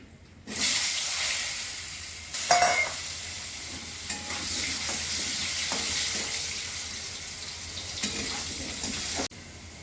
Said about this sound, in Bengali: কালো জিরে ফোড়ন করছি। আলু দিয়ে দিচ্ছি।